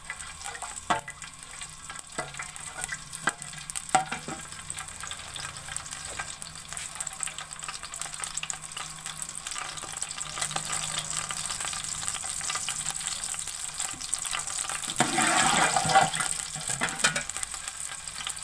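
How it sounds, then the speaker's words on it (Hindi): Steady sizzling of whole garam masala spices tempering in hot oil, with occasional clinks of stirring and a louder burst of sizzle toward the end. "इसको थोड़ी देर तड़का लेंगे।"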